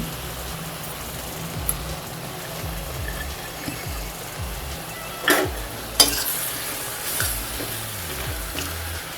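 Radish and black chickpea curry base sizzles in a pan with chili and Kashmiri chili powder, a steady crackling hiss broken by repeated spatula scrapes and a couple of sharp metallic clinks.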